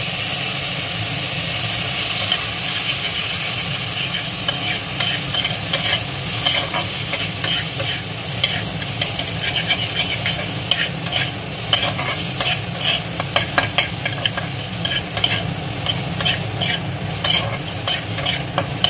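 Soaked cashews and raisins fry in a pan with a steady close sizzle, punctuated by frequent light scraping and tapping stirs that grow busier in the second half, with no one speaking.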